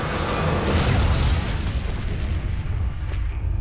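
A deep, loud booming explosion rolls out as an inhibitor is destroyed in League of Legends, one sustained rumbling blast that fades over a few seconds.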